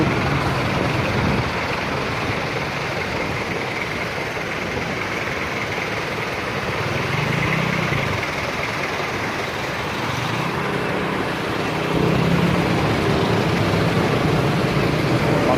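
Road traffic on Quirino Highway, with trucks idling, makes a continuous broad rumble of engines close by that holds steady for about fifteen seconds, with no talking.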